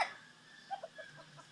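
A Rhode Island chicken gives a few soft, short clucks in quick succession, faint and close, with a brief louder sound at the very start.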